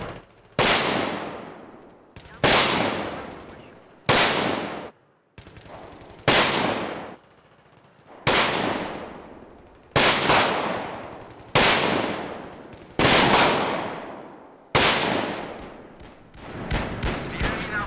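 Steyr AUG A3 rifle fired in close quarters, nine loud sharp single shots spaced about two seconds apart, each with a decaying echo, ending in a quicker cluster.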